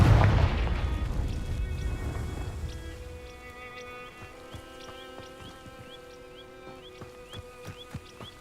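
Confringo fire spell in Hogwarts Legacy: a loud booming explosion that fades over a few seconds into crackling flames and faint tinkling, crisp magical effects.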